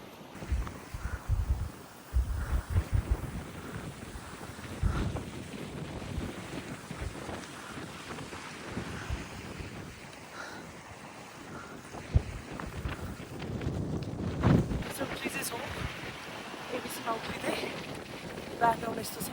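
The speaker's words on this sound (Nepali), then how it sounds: "हावा एकदमै चलिरहेको छ" Strong wind on a mountain trek in Nepal near a small lake, gusting and buffeting the microphone in low rumbles, with bursts of louder blowing and a few sharp knocks.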